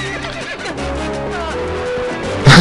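A horse in The Legend of Zelda: Twilight Princess whinnies in a rising, wavering call over a busy game soundscape with background music, ending in a louder burst.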